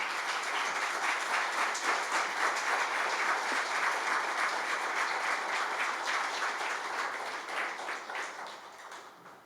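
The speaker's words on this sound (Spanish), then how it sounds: "Dale un aplauso al Señor" A church congregation applauding during a Spanish-language service, dense sustained clapping from many people filling the room at even loudness before tapering off near the end, with no voices over it.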